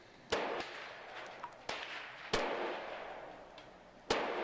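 An M3 grease gun in the VR game Gun Club VR fires several sharp, separate shots at irregular intervals, each a crisp crack with a short decaying tail over quiet ambience.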